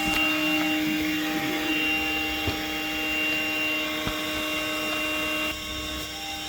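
A vacuum pulled through a hose during a car oil change, with a steady loud whine and hum running unbroken throughout, alone without talk and with a few faint clicks.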